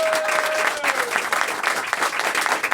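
A theatre audience at a 25th-anniversary comedy show in Quebec breaks into sustained, dense applause, a steady wash of clapping from a large crowd with a faint whistle near the start and no talk over it.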